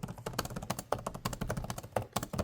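Rapid typing on the detachable keyboard of a 2025 ASUS ROG Flow Z13 gaming tablet, a close, steady run of crisp individual key clicks with no talk.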